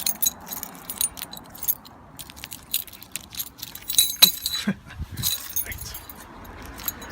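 A bunch of keys jangles and clinks close by in short irregular bursts, with a few louder metallic rattles midway, beside a Porsche 924 2.0 at home; a voice briefly speaks once.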